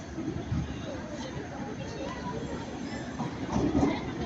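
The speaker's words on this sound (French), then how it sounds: "Il y a un tram de la ligne 3." Line 3 tram at Magnan station, a steady rumbling rail noise with wheel clatter running throughout at moderate loudness, with voices faintly underneath.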